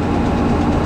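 A farm engine runs steadily for under a second, giving a low, continuous rumble at close range with no voices.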